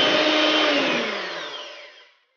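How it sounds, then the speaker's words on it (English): Electric mixer blending cake batter for a hot milk vanilla cake after a quarter cup of cooking oil is added, a steady whirring drone that winds down and fades to silence at the end, with no talking. "I'm going to mix it for about 10 to 15 seconds"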